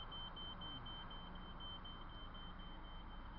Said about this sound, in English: we could hear the beeper.